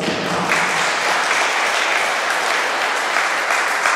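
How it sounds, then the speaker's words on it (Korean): A church congregation at a Korean church service in Paris claps together in steady, dense applause, loud and continuous throughout with no voices over it. "박수"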